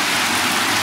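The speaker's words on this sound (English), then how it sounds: "now it's like really, really, really pouring down rain" Heavy rain pours down in Paris as a dense, steady hiss and roar, loud and unbroken, with no voices.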